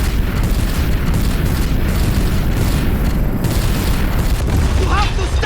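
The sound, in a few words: weapon fire and explosion in Guardians of the Galaxy video game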